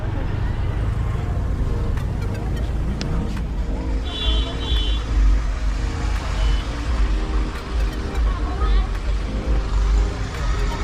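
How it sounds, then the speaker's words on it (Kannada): Street traffic in the hill town of Kodaikanal on a cold May day: a steady, close rumble of passing cars and trucks with a brief electronic beep partway through, and voices faintly mixed in. "ನೋಡಿ ಹೆಂಗಿದೆ ಟ್ರಾಫಿಕ್ ತೋರಿಸ್ತೀನಿ"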